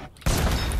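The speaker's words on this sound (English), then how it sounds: "I'm gonna launch a cannon at these fuckers" A cannon fired in the video game Fortnite: a sudden heavy boom bursts in after a quiet moment and rolls on as a loud, dense blast of rumbling noise.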